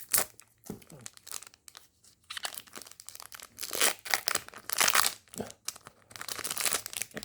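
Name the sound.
tearing open a One Piece trading card booster pack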